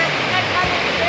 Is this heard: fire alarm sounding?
no